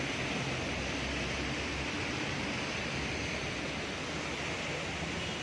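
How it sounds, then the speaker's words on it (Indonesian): Heavy rain pours down steadily as a dense, unbroken hiss, loud and close, with no pauses or other sounds breaking through. "hujannya tuh nggak berhenti-henti, guys. Deras banget, sampai banjir"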